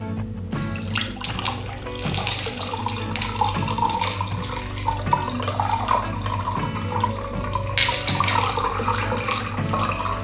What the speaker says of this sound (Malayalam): നമുക്ക് സ്ട്രെയിൻ ചെയ്യാം അതിനകത്ത്.